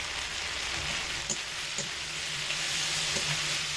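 Spiced potato mixture sautéing in a pan with dried red chilli powder added, a steady close sizzle and frying hiss running throughout, with a few faint stirring clicks and no talking.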